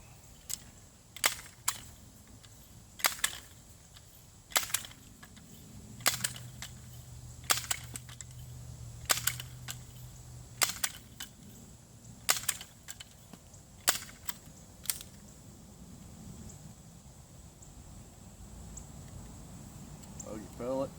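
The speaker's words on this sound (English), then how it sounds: "I like to just open it up and then pump it" A Smith & Wesson 77A pellet rifle is opened and worked through a series of long pump strokes, giving sharp repeated clacks at a steady, roughly regular rhythm, close and fairly loud against a quiet background.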